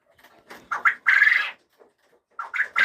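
Celadon quails, a breed that lays pale blue eggs, give short, close calls in bursts, with quiet gaps between them.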